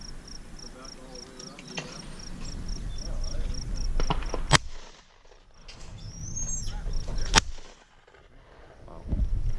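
Shotgun blasts at an outdoor clay target range, two loud sharp reports several seconds apart, with people talking between shots and birds or insects chirping faintly in the background.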